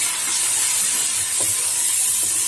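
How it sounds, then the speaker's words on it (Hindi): Spices and tomatoes being sautéed in a pan with red chilli powder and salt give off a steady, loud hiss and sizzle that runs without a break, with faint occasional stirring knocks beneath. "इसके बाद मैं इसको भूनूंगी"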